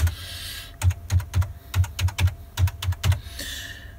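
Fingers typing a password on a computer keyboard, about a dozen distinct close key clicks in a quick irregular run, with quiet moments before and after.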